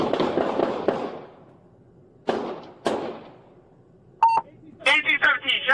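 Gunshots ring out during a police encounter recorded on a body camera: a burst of sharp cracks, then two louder separate bangs, followed by radio beeps and tones.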